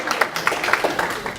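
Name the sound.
audience applause for a panelist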